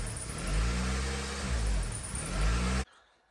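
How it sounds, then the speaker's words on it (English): A Honda Element engine with a fault code for insufficient air, idle surging up and down in a close, rumbling drone that rises and falls before cutting off abruptly. "So it is idling up and down."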